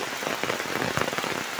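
Heavy monsoon rain pours down without a break beside dark green paddy fields in the Konkan countryside, a dense hiss of drops striking nearby surfaces.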